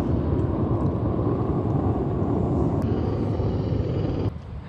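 A helicopter hovers over a bay, its steady broadband rotor and engine roar loud and continuous before cutting off sharply near the end.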